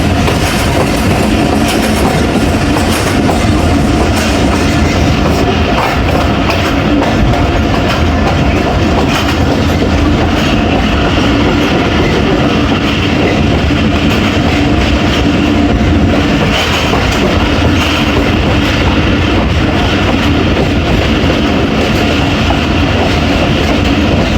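The 48 Down Rahman Baba Express, a passenger train on the Attock to Rawalpindi line, runs steadily past near Fakirabad station. A loud, continuous rumble of wheels on rail carries a rhythmic clickety-clack, with no talk.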